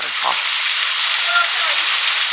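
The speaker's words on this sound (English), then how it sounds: "Maybe we should go to the top of the waterfall." Broad steady rushing water from a waterfall at Peach Tree Rock, close and continuous, with a brief faint voice near the start.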